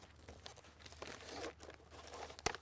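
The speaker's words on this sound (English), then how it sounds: "we roll it up tight in our hand just like this, and then we take the outer sleeve and the hard plastic piece will slide into the outer sleeve" Hard plastic vine plant shelter being rolled up tight by hand and slid into its outer plastic sleeve, close crinkling and scraping rustles in uneven bursts, ending in a sharp crackle, with no talking.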